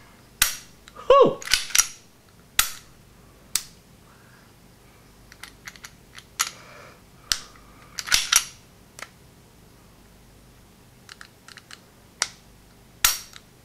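A Colt Mustang pistol is cycled by hand after assembly, giving a series of crisp, close metallic clacks and snaps spread irregularly over several seconds with quiet gaps between them.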